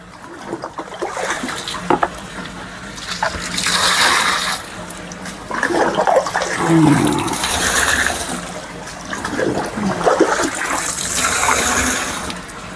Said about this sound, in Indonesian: Oke, saya mau siram dulu.